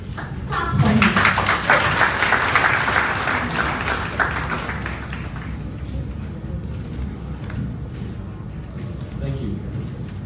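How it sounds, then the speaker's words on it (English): A crowd at an induction of Liberia Children's Forum officials claps for the Speaker-elect, a loud burst of hand-clapping that gradually thins and fades, with voices talking underneath. "Clap for him."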